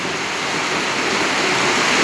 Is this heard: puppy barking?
no